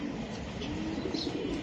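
Racing pigeons kept for club races coo in a low, steady murmur, with faint chirps above, heard close and continuous with no talk.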